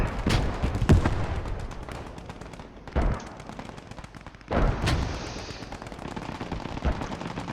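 Artillery fire in a multiplayer ladder-match battle game, a few heavy booms spaced seconds apart over a constant distant crackle of musketry and battle noise.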